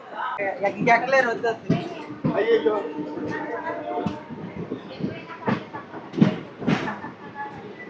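The 17219 Machilipatnam–Visakhapatnam Express rolls along the rails with a steady rumble and rhythmic clatter heard from inside, while someone talks close by over it.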